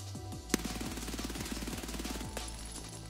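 Rapid automatic machine gun fire in Escape from Tarkov, a fast even rattle of shots lasting a few seconds, fairly close, with one sharper crack near the start.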